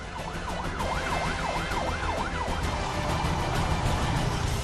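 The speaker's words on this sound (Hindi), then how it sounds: "एम्बुलेंस की सायरन की आवाज आप सुन सकते हैं" An ambulance siren wails, sweeping up and down in a steady repeating rhythm over a constant rumble of traffic outside a hospital in Lebanon after pager blasts, loud and fairly close throughout.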